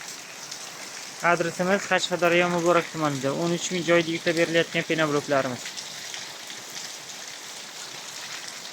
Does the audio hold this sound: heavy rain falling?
yes